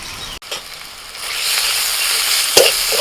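Fried onions with ginger garlic paste sizzling in very little oil, a loud, close, continuous hiss with a brief clink and a stirring scrape near the end.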